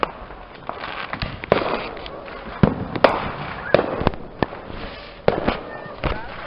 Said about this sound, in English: Fireworks everywhere!